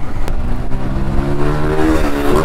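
A Honda CRF motorcycle revs and passes close by in Pokhara traffic, its loud engine rising in pitch and holding a buzzing drone above steady road noise.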